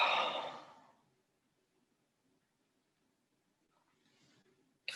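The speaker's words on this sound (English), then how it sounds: "Take a deep breath in and out." A single deep, breathy exhale opens the moment, close and soft, fading into near silence before a faint intake of breath and a brief rustle at the very end.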